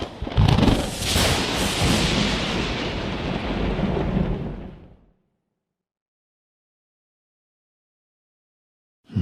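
Heavenly thunder from a video game event story crashes and rumbles heavily for several seconds, loud and booming with a crackling top, then cuts to silence before a brief burst returns at the end.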